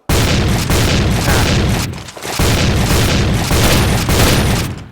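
Loud, dense gunfire from the online shooter game Point Blank, a sustained booming barrage of rapid shots that breaks briefly near the middle before resuming just as heavy, with no talking over it.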